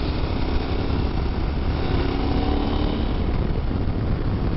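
A KTM 1290 Super Adventure S engine drones steadily while the bike is ridden below full throttle, loud and continuous with a rough, rumbling tone and no speech.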